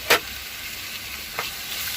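Tomatoes go into frying onions for kushka rice, giving a soft, steady sizzle up close, with two brief scraping clinks of a spoon against the pan.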